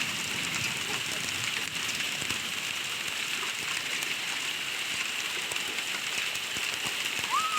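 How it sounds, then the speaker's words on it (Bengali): A heavy hailstorm pelts grass and a pond outdoors, a dense, constant patter with scattered sharper hits holding steady from start to finish. "বৃষ্টিটা হয়েছে পাক্কা 1 ঘন্টা ধরে, শুধু শিলাবৃষ্টি হয়েছে 1 ঘন্টা।"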